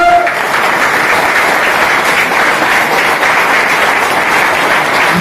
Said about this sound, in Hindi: जब आप ताली बजाते हो ना